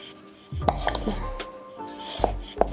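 A knife chopping raw pumpkin into chunks on a board, several firm, close thuds at irregular intervals with short scraping in between.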